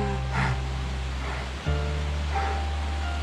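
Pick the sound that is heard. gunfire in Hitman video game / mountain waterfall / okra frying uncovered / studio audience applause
mountain waterfall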